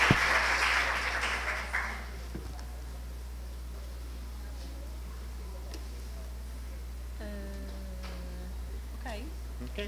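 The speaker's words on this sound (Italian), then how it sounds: "Un applauso anche a lei che è stata." A short burst of audience applause at the close of an academic semiotics seminar, filling the first two seconds before fading into steady room hum, with faint voices afterward.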